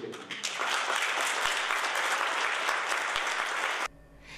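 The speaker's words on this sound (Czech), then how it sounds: "odměnili Karla Kysilku diváci velkým potleskem." A crowd claps enthusiastically in a dense, even wash of applause that stops abruptly just before the end.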